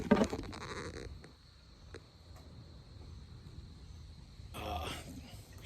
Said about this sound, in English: And right now there's a goat on the roof.